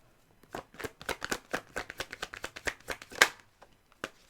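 A deck of tarot cards is shuffled by hand in a rapid series of crisp riffling flicks and slaps, close and clear against a quiet background, ending with a couple of separate taps.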